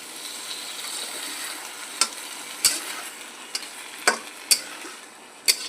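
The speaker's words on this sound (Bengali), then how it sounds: "তারপরে লঙ্কা দিয়ে এই পোস্ত বাটাটা দিয়ে দিলাম" Poppy seed paste with chilli sizzles in a frying pan, a steady soft hiss broken by several sharp clicks and scrapes of stirring, close and alone.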